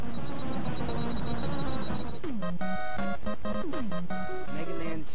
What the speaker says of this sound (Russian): Но когда вы добираетесь до босса, музыка звучит невероятно знакома.